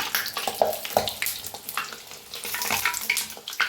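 Banana and jaggery puris frying in hot oil give a close, continuous crackling sizzle with rapid bubbling pops that rise and fall, with no talking.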